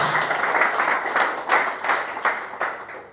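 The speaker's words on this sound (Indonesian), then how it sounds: "Tepuk tangan yang terbaik buat Tuhan Yesus Kristus." A church congregation at a revival service claps together in a steady rhythm, roughly three strong claps per second, full and close, with no talk over it.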